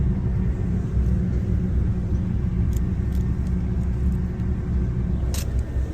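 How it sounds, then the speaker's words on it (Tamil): Dense road traffic rumbles steadily with a constant low engine drone, occasional brief hissing passes of vehicles cutting through, loud and close with no talking. "இங்கே டிராஃபிக் கொஞ்சமாக கூட்டமாக இருக்குது பாருங்கள்"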